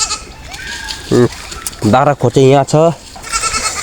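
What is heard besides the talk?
goats bleating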